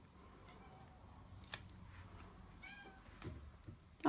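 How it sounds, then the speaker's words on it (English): A pet cat gives a couple of short meows indoors, faint and brief, set among small tapping and clicking sounds at a craft table. "That's Phoebe, my cat."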